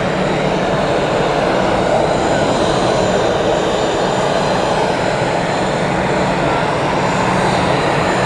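Etihad airliner at Zurich Airport after an earlier go-around, its jet engines roaring loud and steady from close by, a dense unbroken rumble with no voices.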